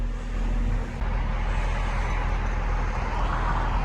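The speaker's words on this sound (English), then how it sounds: "I'm just waiting for these cars to pass by" Traffic on a busy road streams past a waiting car, a steady close roar of several vehicles with a brief dip near the start, no talk.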